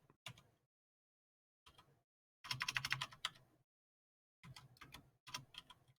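A command is typed on a computer keyboard in short clustered bursts of close, crisp key clicks separated by silent pauses, with one denser rapid run in the middle.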